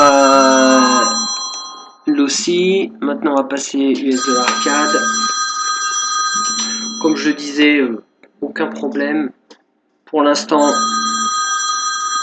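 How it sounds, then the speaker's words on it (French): Telephone ringing in a room, a steady electronic ring repeating in bursts that sits under continuous talking, pausing only briefly during a few gaps. "Excusez-moi pour le téléphone."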